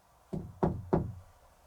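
Three hollow knocks on a wooden surface, evenly spaced and nearby, each ringing briefly in an otherwise quiet room of an abandoned house.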